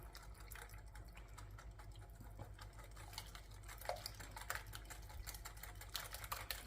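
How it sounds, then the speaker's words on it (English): A whisk beats cardamom and coconut donut batter in a bowl, making rapid, quiet, rhythmic clicking and sloshing taps close up that grow a little louder toward the end. "So now I'm just gonna whisk this together."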